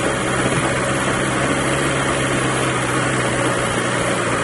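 Engine of an adventure motorcycle on a high mountain road running steadily and loudly throughout, a continuous droning hum with no talk over it.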